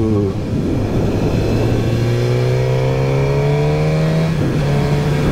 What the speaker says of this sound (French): Vous sentez ce moteur qui donne de la voix